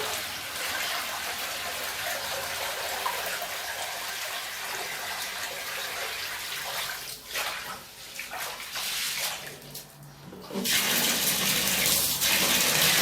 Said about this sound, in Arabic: شايفين بقى هكب انا بقى الميه ديت